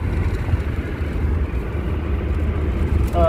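Steady low road rumble inside a crowded rental car packed with luggage and a bike, carrying on continuously at moderate level with no talking.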